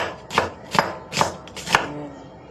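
Knife chopping vegetables, among them garlic, ginger, onion and tomato, for a sauté of fermented fish (burong isda): four sharp, evenly spaced chops on a cutting board, close and clear with no talk.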